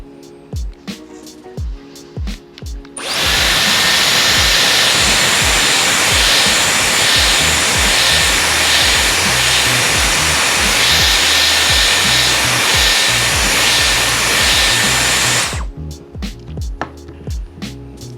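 Dyson Airwrap hair styler blowing air while curling hair, a loud, steady, close whooshing roar that starts abruptly, runs for about twelve seconds and then cuts off, with light handling noises before and after.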